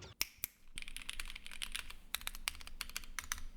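Quick, uneven keystrokes clack on a CNC-machined acrylic mechanical keyboard with Akko Palm Pink switches, stock, close and fairly bright, in a steady flurry of typing.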